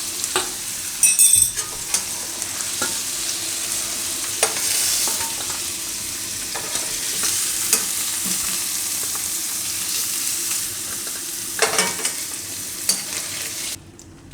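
Paneer fries in oil in a kadai for methi matar paneer, a steady close sizzle throughout with occasional scraping stirs and clinks, no talking.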